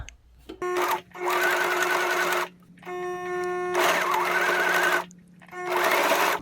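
A sewing machine stitches a pocket onto a shirt, whirring loudly and close in three separate runs with short pauses between them.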